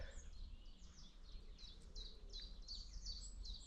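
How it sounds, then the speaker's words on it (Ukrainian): Small birds sing in a quiet forest by a fishing spot, a series of quick, high chirps repeating at a fairly regular pace, soft and somewhat distant over a low background hush. "Просто послухайте, який звук пташок."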